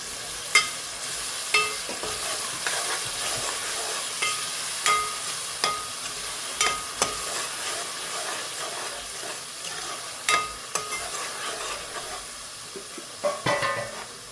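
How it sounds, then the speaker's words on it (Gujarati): A spoon stirs a spiced mixture in a hot pan after salt is added, with a constant sizzle and hiss broken by regular sharp scrapes and clinks of the utensil against the pan. "સ્વાદ અનુસાર નમક. હવે છે ને મિક્સ કરી નાખવાનું."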